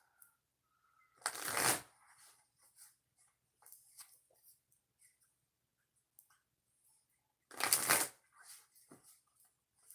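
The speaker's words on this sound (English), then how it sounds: "Now let's shuffle" Oracle cards are shuffled in two brisk bursts separated by a quiet stretch, with faint light handling sounds and soft taps in between.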